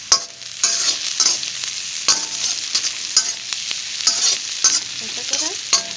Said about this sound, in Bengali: বেরেস্তাটা সুন্দর লাল লাল করে ভাজা হবে